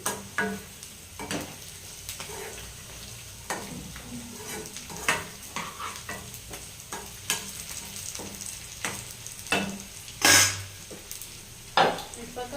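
Eggplant pieces sizzle and fry in a pan while a utensil stirs and scrapes, with scattered clinks and a couple of sharper metallic knocks.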